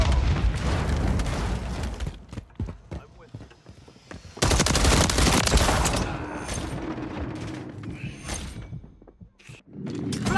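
Call of Duty 3 combat roars with dense gunfire bursts and heavy booming grenade explosions, loud and chaotic throughout, with shouted voices mixed into the din.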